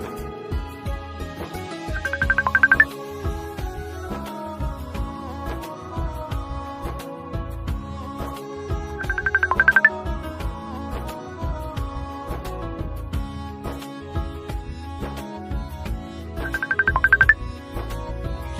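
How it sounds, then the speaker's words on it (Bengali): A mobile phone ringtone plays a repeating musical tune, loud and close, with a brighter flourish recurring about every seven seconds, and no voices. "কে এত ফোন দেয় তোমাকে দেখি?"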